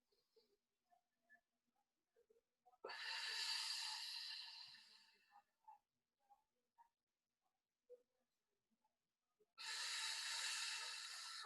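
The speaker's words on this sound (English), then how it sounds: "Fill your body up with air. Hold for a second and then exhale all that air." Slow, deep breaths during a guided stretching workout, two long forceful airy exhales close to the microphone separated by quiet stretches with faint small movements.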